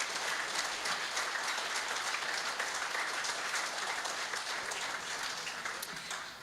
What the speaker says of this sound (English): please give them a round of applause as they come up.